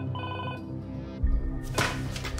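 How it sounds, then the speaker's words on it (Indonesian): A telephone bell rings in a Korean drama, a steady repeating electronic ring in a quiet room, followed by a deeper low thud and a brighter swell of sound near the end. "Di ruangan, Jung Hee mendengar suara telepon berbunyi."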